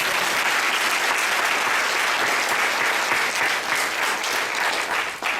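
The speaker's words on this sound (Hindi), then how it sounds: "उत्साह भरा ताली।" An audience at a goal-setting seminar claps loudly for volunteers, a dense, sustained burst of applause filling the room for several seconds with no talking.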